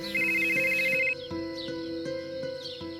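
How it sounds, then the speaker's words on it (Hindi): A cartoon phone rings with a steady electronic tone over soft background music in a Hindi animated horror story, the ring lasting about a second before music continues alone. "राजू हेमंत को फोन करता है।"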